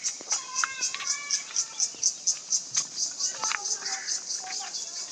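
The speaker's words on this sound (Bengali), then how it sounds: "এই যে দেখেন পাখির কিচিমিচির আওয়াজ অন্যরকম।" Birds chirp in a green village in the afternoon, a run of quick, bright, evenly spaced calls with a few longer twittering notes, close and clear over a quiet background.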